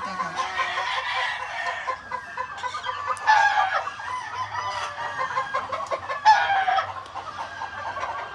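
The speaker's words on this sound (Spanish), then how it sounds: "Aquí está un gallo, dulce, muy pollito, pero así lo echamos a la cría" Rooster and hens, a mixed Kelso and Hatch breeding lot with Rubble Hatch hens, clucking and calling steadily at close range, with a couple of louder crow-like bursts rising above the flock chatter.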